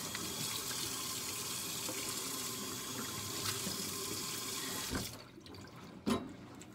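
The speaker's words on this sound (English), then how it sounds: "this sink over here needs to get washed out." Tap water runs steadily into a sink being washed out, a constant close splash that stops near the end, followed by a single dull clunk.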